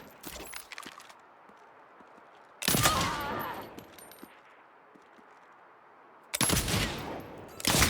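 Bursts of fire from a new gun in the Saints Row video game, two loud broadband volleys a few seconds apart, each with a ringing tail, over quiet background ambience.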